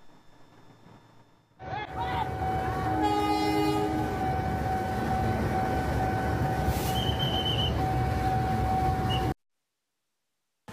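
Bangunkarta passenger train rumbles loudly through the Pasar Senen level crossing in central Jakarta, sounding its horn and squealing along the rails, heard close with sustained roar after a quiet start and an abrupt cut near the end.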